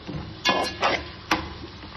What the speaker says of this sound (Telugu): నువ్వులు డ్రై రోస్ట్ చేసుకోవాలండి.